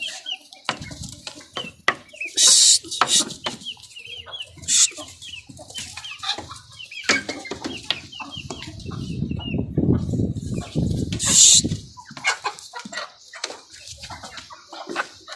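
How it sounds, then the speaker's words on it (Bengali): Colombian Brahma chickens cluck and squawk in an irregular, busy chorus, with sharp calls and rustling nearby and a few louder bursts. "আমার মুরগিগুলি সব এখানে রয়েছে"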